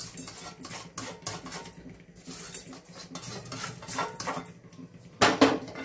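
Roasted dal and spices for sambhar masala are scraped and tipped into a pan, producing close metallic scrapes, rattles and a louder clatter near the end, with no voices.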